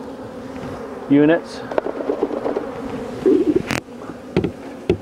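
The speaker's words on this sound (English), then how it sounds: "Let the rest of those bees go back in the hive" Honey bees buzz steadily around an open hive during an apiary inspection, a close, droning hum with brief louder swells as a person speaks and handles equipment nearby.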